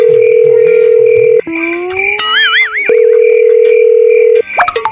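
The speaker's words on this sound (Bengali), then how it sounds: "ফোন ধরতে না।" An unanswered phone call in a Bengali comedy drama rings out as a loud, steady electronic tone that breaks off briefly in the middle, with a warbling melody, then resumes.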